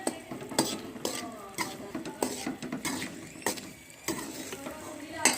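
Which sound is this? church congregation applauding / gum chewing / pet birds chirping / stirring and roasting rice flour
stirring and roasting rice flour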